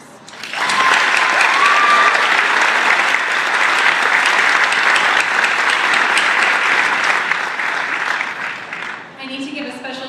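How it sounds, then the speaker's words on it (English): A large audience at the 2013 UNH Manchester commencement ceremony gives its supporters a round of applause: loud, dense clapping that holds steady for about eight seconds, then thins and fades. "giving a round of applause to our supporters"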